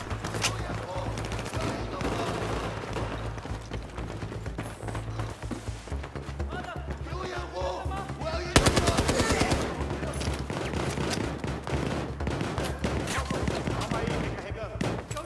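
Rapid bursts of gunfire in Battlefield 4, dense and continuous across the whole stretch, with repeated volleys, heavier shots and a sharp louder burst midway, close and loud over game noise.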